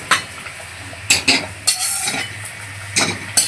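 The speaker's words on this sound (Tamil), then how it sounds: "சீரகம் போட்டு தாளித்து ஊற்றலாம்." Cumin being tempered in hot ghee and poured over spinach dal, with a steady sizzle and frying crackle broken by several sharp bursts of spoon scraping and metal clinks against the pan.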